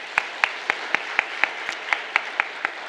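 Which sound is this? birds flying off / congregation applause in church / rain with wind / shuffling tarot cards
congregation applause in church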